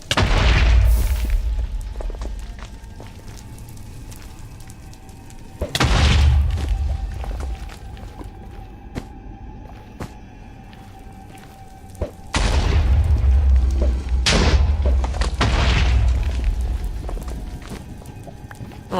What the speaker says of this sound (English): Almost like the explosions are sucking me in.